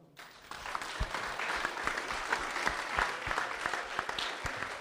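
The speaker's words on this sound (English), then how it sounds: "One more round of applause for Jelle and Olaf." An audience at a summer sessions event applauds two presenters, a steady wash of many hands clapping at moderate distance with a few sharper close claps, with no talk over it.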